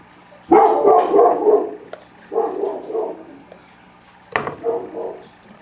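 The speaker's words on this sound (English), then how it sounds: "Scout found something interesting to bark at." A dog barks three times at moderate distance, with pauses between the barks, the first one longest and loudest.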